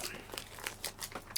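Plastic packaging from a subscription beauty box is crinkled and pulled open, making a run of quiet, close crackling and rustling bursts with small tearing snaps.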